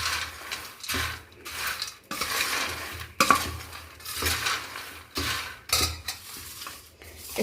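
A spoon stirs and mixes a peanut and sabudana fasting snack in a metal container, producing repeated clinking, scraping strokes in irregular bursts with short pauses, close and fairly loud, with no talking.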